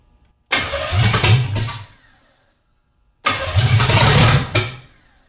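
A hot-rod-built 327 Chevy V8 cranks loudly up close in two separate attempts of about one and a half seconds each, rough and churning, with silence between them.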